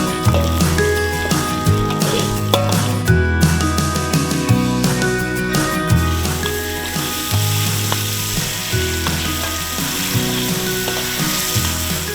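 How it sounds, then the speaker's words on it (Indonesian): Ingredients sautéing in a pan, a loud, close sizzle with rhythmic, repeated scraping strokes of a stirring utensil throughout, no voices. "Kita tumis semua ya Bu ya"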